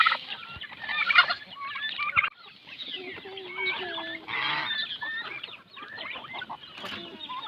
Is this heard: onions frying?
no